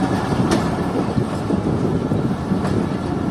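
Pakistan Railways locomotive 8214 moves along a platform at night to couple onto the Sukkur Express, giving off a loud, steady rumble with faint rail clatter.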